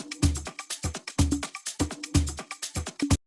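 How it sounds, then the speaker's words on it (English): Percussion loop playing in FL Studio, punchy repeating drum hits with a low thump and bright snappy transients in a steady, tight rhythm, loud and alone. "Then I have loaded in an extra percussion loop"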